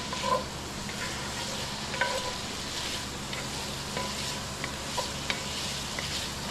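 Sausage sizzles steadily in a medium-hot pan for Cajun jambalaya, a constant broadband hiss with faint clicks and small pops and the scrape of occasional stirring.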